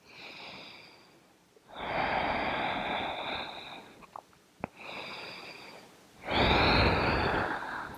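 A person breathing slowly and audibly while holding a yoga stretch, with long drawn breaths separated by short pauses and a sniff, close and clear with no talking.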